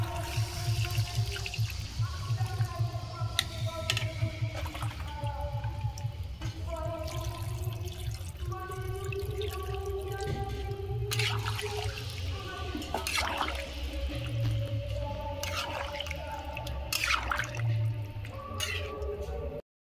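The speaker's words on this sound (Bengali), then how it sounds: "আলু কষা হয়ে গেছে, জল দিয়ে দেবো।" Water splashes and trickles into a pot of sautéed potatoes for a home-style aloor dum, close and bubbling, with scattered clinks and background voices over a steady hiss.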